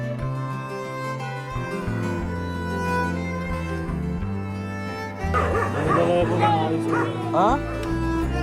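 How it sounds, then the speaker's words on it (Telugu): Dogs yip, bark and whimper at a village laddu auction, heard amid a busy outdoor event with music-like tones, background voices and crowd noise throughout. "లడ్డు వేలంపాట కార్యక్రమంలో కుక్కలు కూడా పాల్గొనడం ప్లాన్ చేస్తున్నారు, మీరు వినొచ్చు."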